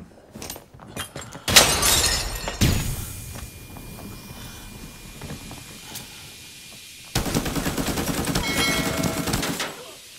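AKM rifle gunfire in the shooter game Arena Breakout: a few sharp opening cracks, a heavy burst with a decaying tail, a quieter lull, then a long sustained stretch of rapid automatic fire mixed with breaking-glass crashes.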